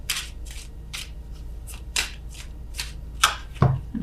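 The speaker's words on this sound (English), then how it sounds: "I'm shuffling extra slow" Tarot cards shuffled slowly by hand, a series of soft papery riffling bursts about every half second, close and fairly quiet over a low steady hum, with no talking.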